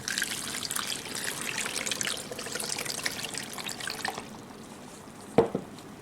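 Water runs steadily for about four seconds, a broad splashy pour into a blender jar with sugar, then stops and is followed by a single sharp clink near the end.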